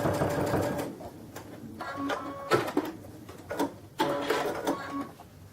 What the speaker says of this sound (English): I don't worry about back stitching on this because those edges are all going to be sewn in nice.